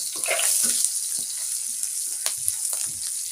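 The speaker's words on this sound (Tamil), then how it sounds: "இஞ்சியும் பூண்டும் நல்லா செவக்க வறுபடட்டும் அது வரைக்கும் மெதுவாக வதக்கி விடுவோம்" Ginger and garlic sizzle steadily in hot oil for a potato curry, a loud continuous hiss with occasional crackles and light scraping as the pan is stirred.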